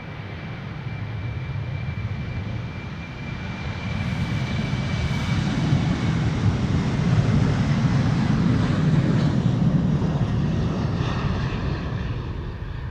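An airplane departs from Amsterdam Schiphol Airport, a steady, loud jet roar that builds gradually and holds as a broad, rumbling wash of engine noise with a faint high whine, heard without talk.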